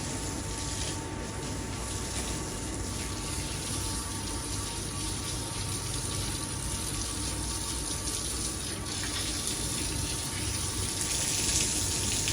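Water runs steadily outdoors as a residential street lane is washed down early in the morning, a continuous broadband rush and splash that stays loud and even throughout without pause.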